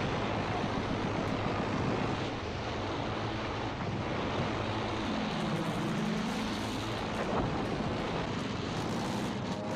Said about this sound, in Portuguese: Avião repéré!